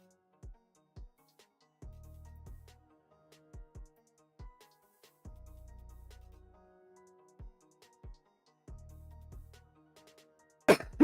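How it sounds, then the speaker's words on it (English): One person coughs and clears their throat in a series of short, quiet bursts spaced a second or two apart, close to the microphone, with near silence between. A sharper burst comes at the very end. "Sorry, I keep coughing."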